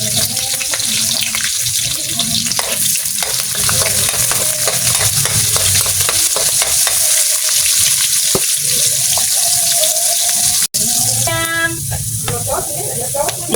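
Onion and garlic sautéing in a pan for mung bean gisado, a continuous sizzle with stirring scrapes and clinks, some running water, and a faint voice in the background.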